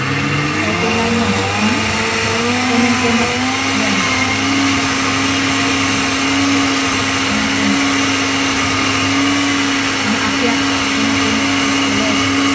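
A blender whirs steadily while making a smoothie, a loud, close motor drone with a rising and settling whine that holds unbroken for the whole stretch, no talk over it.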